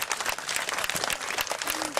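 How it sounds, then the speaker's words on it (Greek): An audience at an evening lecture event applauds: dense, steady clapping from many hands fills the room, fairly quiet and continuous for a couple of seconds. "Το χειροκρότημα θα πάει αλλού."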